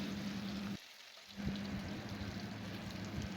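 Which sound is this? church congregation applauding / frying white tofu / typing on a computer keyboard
frying white tofu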